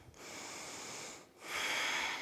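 Deep breathing during a seated yoga twist in a vinyasa flow: a long, steady airy exhale, a short pause, then a louder, rushing breath, close and clear with no talking.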